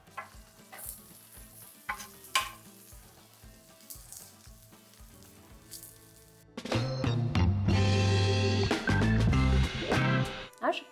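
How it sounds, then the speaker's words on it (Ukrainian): Quiet stirring and light clatter at first, then a sudden loud sizzle as onion and garlic hit hot butter, crackling steadily to the end. "Додамо десь чайну ложку вершкового масла і прогріємо нашу цибулю та чесник."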